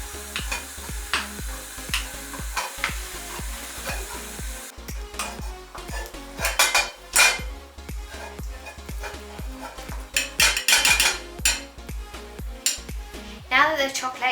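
Whipped cream is mixed into melted chocolate in a bowl with a utensil, giving close, rhythmic scraping and tapping strokes that grow louder and more clattery toward the end, with no voices.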